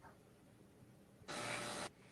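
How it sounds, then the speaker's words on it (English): A Dremel tool and a vacuum pump running, heard as a low background hum and then a loud, sudden burst of hissing high-pitched noise for about half a second before dropping back. "I'm right next to a vacuum with a Dremel tool that's making a heck of a sound"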